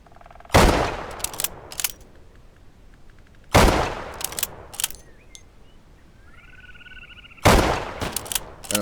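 Loud gunshots in the video game Deadside at long sniping range: three heavy blasts spaced a few seconds apart, each with a ringing, echoing tail, and smaller clicks and handling noises in between.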